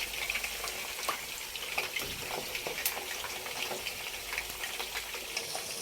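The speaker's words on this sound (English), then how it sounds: "Deep frying process." Pieces of whole fish deep fry in hot oil, a steady crackling sizzle with scattered pops, fairly quiet and continuous with no voices.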